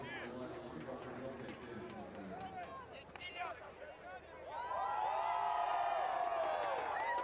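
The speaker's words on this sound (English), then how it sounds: "the crowd here in Siberia certainly providing plenty of noise and colour" A spectator crowd at a windy, cold canoe-kayak sprint Olympic qualifier in Barnaul, Siberia, cheers and whoops in a swelling roar, with a commentator's voice and babble over it in the first part before the cheering grows louder and sustained.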